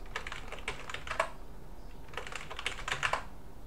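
Quick bursts of typing on a computer keyboard with a French AZERTY layout, close and crisp, in two clusters of rapid key clicks separated by a short pause, with no voices.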